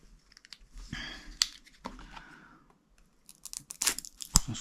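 Unboxing of a package holding a black aluminium CNC airsoft tracer: crisp tearing of packaging, crinkling plastic and sharp snips close to the mic, in quick irregular bursts with brief quiet gaps.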